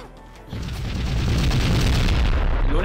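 Deep booming explosion from blowing something up in the castlevania-style video game The Skylia Prophecy, bursting in after half a second and rolling on loud with a long rumbling tail.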